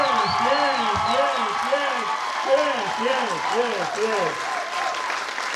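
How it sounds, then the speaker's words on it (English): A crowd at a police academy passing-out ceremony in Ulundi applauds the graduates, steady broadband clapping under a loud amplified voice that talks continuously over it. "give them a big round of applause"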